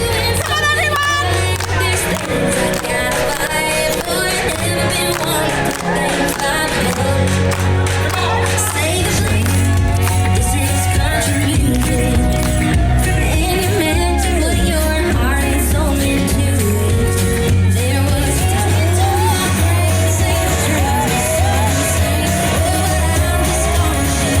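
Crowd at a public school's annual fair with thousands of people, a dense, continuous outdoor hubbub of many voices with loud music and scattered shouts throughout.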